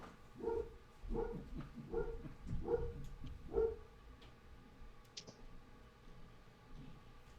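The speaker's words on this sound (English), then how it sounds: "What the hell are they barking at?" Dogs bark from some distance outdoors, five regular woofs about one every second, moderately loud over a quiet background, followed by a few faint scattered sounds and then near silence.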